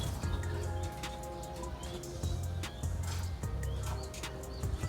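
Low, soft cooing from racing pigeons repeats in short phrases, with light chirps and rustling around them.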